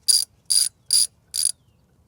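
A ratchet turning a 12 mm socket on the battery bracket of a 2023 Hyundai Ioniq 5, four quick even bursts of clicking with short gaps between them, close and crisp.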